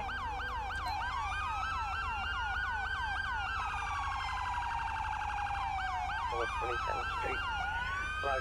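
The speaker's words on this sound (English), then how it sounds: "five and six are going to be the dual sirens" Dual police sirens in GTA 5 with the LSPDFR mod, two overlapping electronic wails and yelps cycling rapidly and loudly, switching patterns partway through, with no talk.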